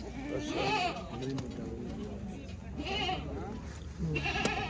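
A male goat bleats a few times nearby at a goat market, its wavering calls rising over a low background of voices and outdoor noise.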